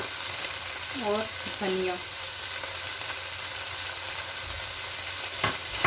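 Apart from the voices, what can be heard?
chicken mince frying and being stirred on high flame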